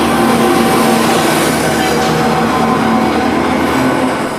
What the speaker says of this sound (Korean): 드디어 기차가 들어왔습니다.